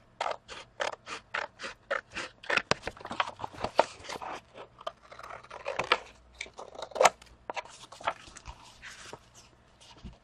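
Sharp metal scissors snipping through paper in a steady run of quick, distinct cuts, loud and close, slowing into irregular scrapes and crisp snips near the end, with no talking.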